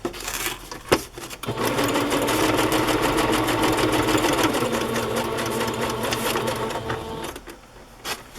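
A sewing machine runs steadily for several seconds, stitching a shabby-style journal cover decorated with vintage needlework. It gives a close, continuous mechanical whirr after a few short starting clicks, then slows and stops near the end.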